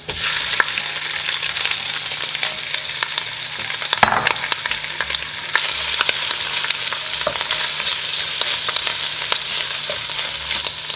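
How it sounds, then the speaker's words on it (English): Shrimp fry with sautéed garlic in butter in a hot pan, giving a continuous bright sizzle that stays close and even, with a sharp clatter near the middle as something stirs or shifts in the pan; nobody speaks. "After we've sauteed our garlic, we're now going to add in our shrimp."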